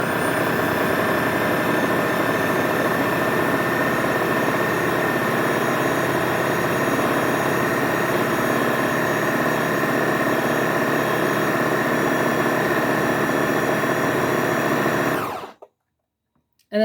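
A blender whirs loudly and steadily for a long stretch, pulping paper with water, a constant motor drone that cuts off abruptly near the end.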